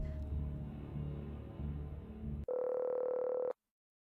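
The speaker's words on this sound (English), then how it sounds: "Oh, is that our phone?" A telephone rings in a visual novel game: one steady electronic tone lasting about a second cuts in after a stretch of dark background music, then everything goes silent.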